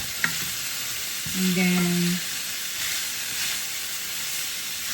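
Boiled chicken being sautéed in a pan for a Filipino creamy soup, with a steady soft sizzle and a brief stir-scrape of utensil against the pan; a voice speaks briefly near the start.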